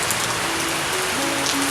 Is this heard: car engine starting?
no